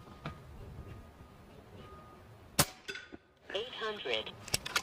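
Sharp air rifle shots from a Hatsan Factor QE 5.5mm synthetic PCP, one loud crack midway followed by a couple of softer pops, outdoors with wind noise and brief talk afterward.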